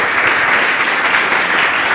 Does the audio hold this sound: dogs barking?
no